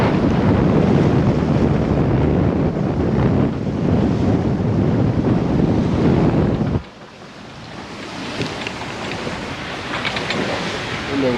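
Strong wind roaring across the microphone on a sailboat at sea heading toward Marigot, loud and steady, then suddenly cutting down to a softer rush of wind and water.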